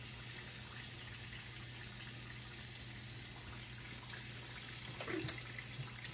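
A kitchen sink tap runs water at a steady, moderate flow, a soft continuous hiss with a small splash near the end.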